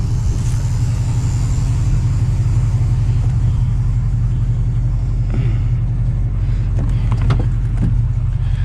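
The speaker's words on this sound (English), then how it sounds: "I'm letting the truck warm up because it hasn't been driven in a little bit" A truck engine idles steadily while warming up after sitting unused, a deep, even rumble that stays close and constant, with a few faint clicks and knocks near the end.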